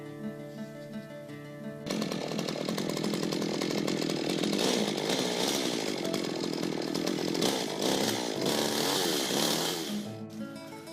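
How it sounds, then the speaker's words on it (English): A chainsaw, sterilized to limit the spread of disease, cuts harsh pruning cuts through tree branches up in the tree. It starts with a lower idle before revving loud and steady for about eight seconds, then drops back toward idle. "spray down the one chainsaw that we're going to use to make these harsh cuts"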